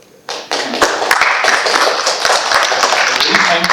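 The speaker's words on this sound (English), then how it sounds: "I think a round of applause for Vaibhav." An audience at a public conversation event breaks into applause for a speaker. The clapping starts abruptly and builds into a dense, steady round that continues to the end, with a few voices mixed in.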